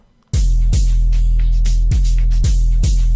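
A looped amapiano open hi-hat pattern built in FL Studio Mobile: crisp sizzling hats repeat in a steady groove over deep booming low thumps, loud and close with no voices.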